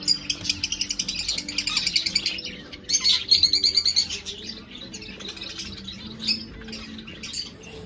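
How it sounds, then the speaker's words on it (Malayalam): Pet shop cage birds such as lovebirds, budgies and finches chirp and squawk nearby, rapid bursts of shrill tweets in quick rhythmic runs that fade to sparse calls toward the end. "ലവ് ബേഡ്സ് വൺ പെയർ നൂറ്റി അറുപത്തൊമ്പത് ബജീസൊക്കെ ഉണ്ട് ഒരു പെയറിന് എഴുപത് പൗണ്ട് ഉണ്ട് അതുപോലെ പലതരത്തിലുള്ള കുരുവികൾ"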